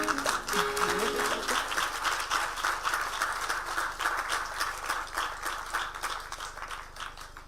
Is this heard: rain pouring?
no